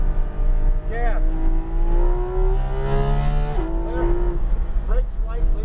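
Porsche 911 GT3 RS engine at the Autobahn Country Club track, pulling hard under full throttle with a steady high-pitched rising wail, loud and close inside the car, with an instructor's voice talking over it.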